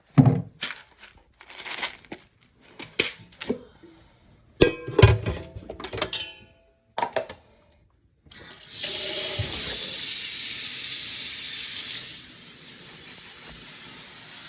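After a run of scattered knocks and rustles, a tap is turned on. Its loud, steady, hissing rush of water lasts several seconds, then drops to a softer trickle.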